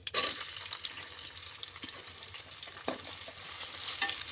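Thinly sliced onions frying with bay leaves, cardamom, cloves and cinnamon for an Andhra-style mutton curry: a soft, steady sizzle broken by occasional spatula stirs and scrapes, with no one speaking.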